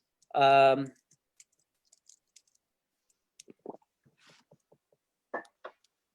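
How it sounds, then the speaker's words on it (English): Keys on a new computer keyboard clicking in a few sparse, scattered taps, quiet and close, after a short voiced burst at the start. "So I'm using a new keyboard"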